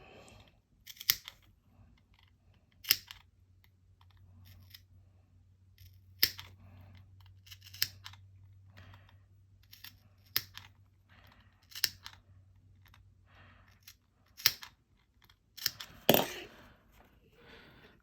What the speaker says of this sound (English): Then I'm going to cut V's out very close together through this curve